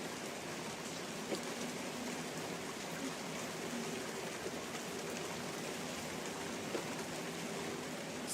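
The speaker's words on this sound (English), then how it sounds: "I notice the sound of rain" Soft steady rain falling on a surface, a continuous faint hiss with scattered tiny drops, no voices, unbroken throughout.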